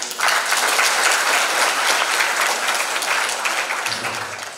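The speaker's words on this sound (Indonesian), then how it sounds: "Tepuk tangan buat fotografer" Sustained applause from an audience at a teachers' seminar at Gontor, a dense steady clatter of many hands lasting throughout, fading only slightly near the end.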